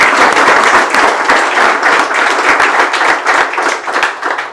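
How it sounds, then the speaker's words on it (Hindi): A group claps steadily and loudly, dense overlapping claps continuing without pause, close and energetic. "तालियां बजा देते हैं भाई,"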